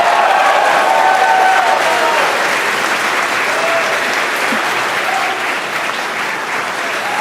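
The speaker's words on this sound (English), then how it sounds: "by the cheers in the crowd behind me" Crowd cheering and applauding at a SpaceX Falcon 9 launch of the Dragon CRS-20 cargo mission, a dense steady roar of many voices and clapping that holds loud throughout and eases slightly toward the end.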